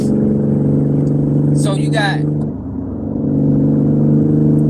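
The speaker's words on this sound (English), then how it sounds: "y'all know this car loud. I ain't driving the BMW." A loud car engine while driving, not a BMW, gives a constant low droning hum with a brief dip and a rumble near the middle, under a speaking voice.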